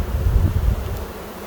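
A honeybee colony close to swarming hums in a thick, close, loud buzz, strongest at first and easing slightly over the short stretch.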